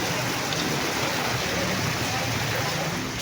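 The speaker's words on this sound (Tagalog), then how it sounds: "Grabe lakas ng ulan." Heavy rain pours down in a dense, continuous hiss, loud and unbroken throughout.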